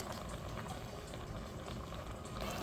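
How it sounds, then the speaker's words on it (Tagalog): A pan of sautéed pork, shrimp and pechay boils steadily, a continuous close bubbling and fizzing that stays even throughout with no voices. "So, ayan, kumukulo na."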